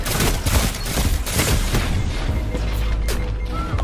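Skip grenades detonate in a Destiny 2 Countdown match, a string of sharp bursts and booms layered over steady battle noise and scattered gunfire, loud and close throughout.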